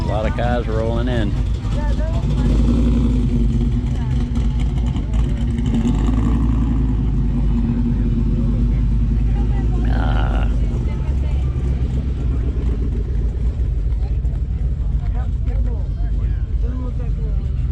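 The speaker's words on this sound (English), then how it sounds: "A lot of cars rolling in." Hot rods and street rods roll into an outdoor rod run, their engines making a continuous low rumble with occasional revving, heard beneath steady conversation from nearby people.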